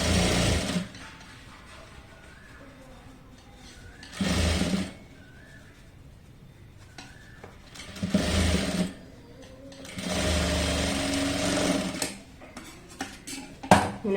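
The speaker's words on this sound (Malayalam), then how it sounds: "ഇനി ഇത് ഒരു 1/4 ഇഞ്ച് ഇങ്ങനെ മടക്കിയിട്ട് ഇതിന്റെ മീതെ കൂടെ അടിക്കുക." A sewing machine stitches a folded quarter-inch hem on a puff-sleeve child's frock, running in four close, loud bursts of rapid whirring, separated by quiet pauses.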